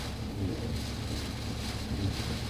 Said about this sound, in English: that wind is just getting funneled right through this area right here